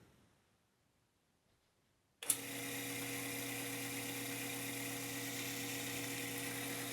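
A Craftsman 618 metal lathe switches on after a quiet pause with a sharp start-up click, then settles into a steady, even motor whine and hum that holds without change.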